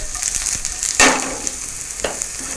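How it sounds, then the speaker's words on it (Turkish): Sliced onions frying in butter in a pan, a close, steady sizzle with occasional louder spits and stirring scrapes. "Tereyağını tavada ve soğanlarla birlikte kavuruyorum"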